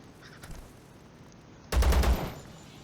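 A burst of rapid gunfire from Zero Sievert, the survival shooter, erupts loud and close after a quiet stretch, several quick shots packed into about half a second before dropping back to low background hiss.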